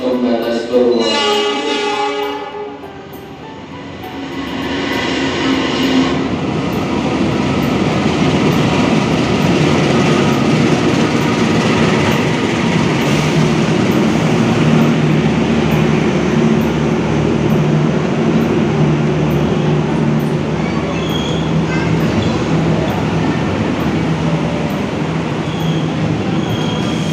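KA Jayakarta Premium passenger train rolling past at a station, a loud steady rumble of wheels and cars with a brief horn-like tone at the start, continuous and close throughout.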